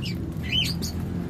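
Violet personata lovebirds squawk while eating seed, a few harsh, close calls over a low background rumble.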